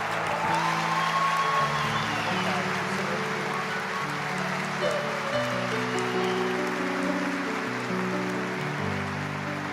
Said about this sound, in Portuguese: E eu quero que você receba a mulher de Deus, aplaudindo bem forte o Senhor Jesus.